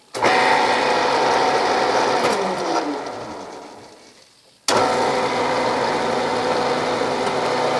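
A Bridgeport milling machine in slow back gear power-taps an oiled 8-32 thread. A steady mechanical whir winds down to near silence, then abruptly starts up again at full level, close and without talk.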